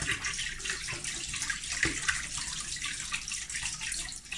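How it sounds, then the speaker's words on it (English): Running tap water splashes over hands being washed at a kitchen sink, a steady continuous rush with light shifting splashes, close and fairly loud, with no talking. "just wash my hands so they're as cold as can be"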